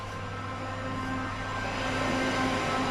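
Steady interior rumble of a West Midlands Railway Class 323 electric train while riding, a continuous low drone with faint hum tones and no talking.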